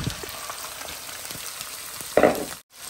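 Minced keema meat frying in a pan, a steady close sizzle running throughout with a brief louder burst near the end before a short drop to near silence.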